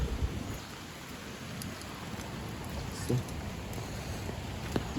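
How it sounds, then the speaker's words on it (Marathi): Rain falls steadily, a constant soft patter and hiss with a couple of slightly louder splashes and no voices. "पाऊस पण पडत आहे"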